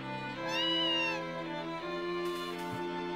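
A cat meowing in the Harvest Moon: Another Wonderful Life video game, one drawn-out rising and falling meow over faint tonal game music, clear and close.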